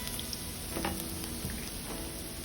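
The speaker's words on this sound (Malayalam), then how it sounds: "ഇഞ്ചി എണ്ണയിലിട്ട് നന്നായിട്ട് വഴറ്റി കൊടുക്കുക" Chopped ginger fries in oil for a hog plum pickle, giving a quiet, steady sizzle with faint stirring knocks, close up and without speech.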